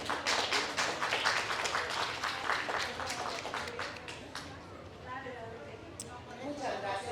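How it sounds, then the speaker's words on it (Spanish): Audience applause at a university book presentation for Francisco Hinojosa's "El peor día de mi vida", with dense, fairly loud clapping that peaks early and gradually thins out over several seconds. "Fuerte el aplauso y comenzamos."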